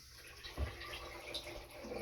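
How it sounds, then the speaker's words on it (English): Kangen water runs into a container, a steady low pouring wash with a brief louder splash near the start, fairly close and alone. "filling it up with more water"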